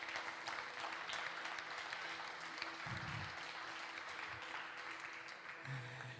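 A church congregation applauds during a sermon, producing steady, sustained clapping that fills the room evenly with a faint murmur under it.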